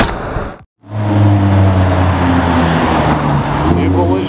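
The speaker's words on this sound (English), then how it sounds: "Supercar, sick." A supercar, a McLaren 765LT or Porsche 992 Turbo S, roars past on a Toronto street with a loud, sustained engine note after a brief gap. Background voices are faint.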